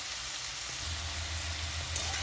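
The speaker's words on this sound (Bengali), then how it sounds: "তো আলু পেঁপেটা ভাজা হয়ে গেছে" Papaya and potato fry in a pan, a steady broadband sizzle with a low rumble joining partway and one faint click near the end, no speech.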